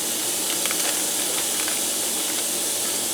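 A pound of ground beef sizzles and hisses in a preheated Copper Chef XL pan, a steady, close frying hiss with faint crackles and no voice over it.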